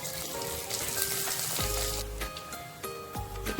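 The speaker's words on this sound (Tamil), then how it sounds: "கடுகு கொஞ்சம் சோம்பு கொஞ்சம் போட்டு பொரிய விட்டுக்கலாம்" Mustard and fennel seeds crackle and splutter in hot oil for a tempering, a steady close sizzle with sharp pops and a few scraping stirs, no voices.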